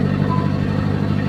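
A 1992 Suzuki Futura engine idles up under light throttle, a steady, close mid-pitched drone with a low rumbling hum and no sharp revs.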